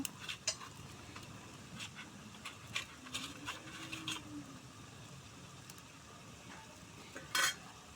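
Chicken skin with ground ginger and cumin paste being stirred in a frying pan, soft sizzling under scattered scrapes and clinks of a spoon against the pan, with a louder scrape near the end.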